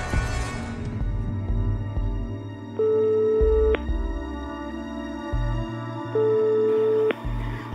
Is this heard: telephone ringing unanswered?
yes